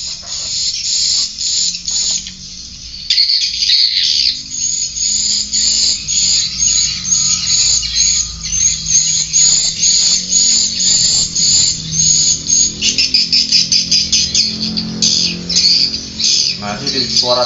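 Loud, shrill swiftlet calls repeat in rapid bursts through a loudspeaker at about 101 dB, harsh and piercing, with a brief pause early on.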